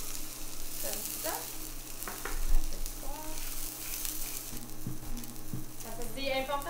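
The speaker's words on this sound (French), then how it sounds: "On va entendre la viande qui saisit dans la poêle." Meat sears in a very hot frying pan, giving a steady, moderately loud sizzle with occasional clinks and stirring sounds and a faint voice near the end.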